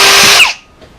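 A power drill bores into a Skyline R33 cylinder head, giving a loud steady whine that cuts off abruptly partway through, followed by quiet.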